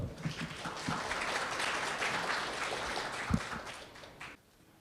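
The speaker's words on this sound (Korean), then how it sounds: "박수 부탁드리겠습니다." A seminar audience applauds for an incoming lecturer, a steady even wash of clapping that lasts about four seconds and then tapers off into quiet.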